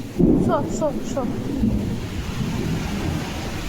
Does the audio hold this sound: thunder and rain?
yes